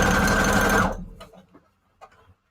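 A sewing machine stitches paper scrap embellishments in a fast, close, steady buzz for about a second, then stops, leaving a few soft handling clicks.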